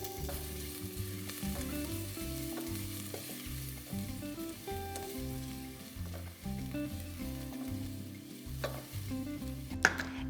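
Garlic sizzles in a pan for a San Marzano tomato sauce under a steady, quiet crackle, with a rhythmic low rumble and thuds running through it and a sharp clink near the end.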